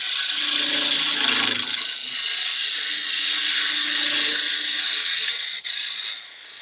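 A parting tool cuts into wood spinning on a lathe, a loud steady hissing scrape with a continuous motor hum, easing slightly in intensity partway through and with no talking.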